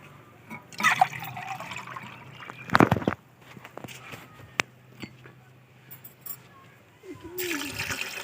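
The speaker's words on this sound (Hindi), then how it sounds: "फिर इसमें हम अभी 2 से 3 गिलास पानी ऐड करेंगे" Water pours and splashes into a pot of beef namkeen gosht in bursts, with clinks and handling noises between pours, nearby.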